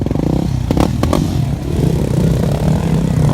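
A motorcycle engine drones loudly and close as the bike rides over a curb, with a few sharp clattering knocks from the impact amid the steady motor noise.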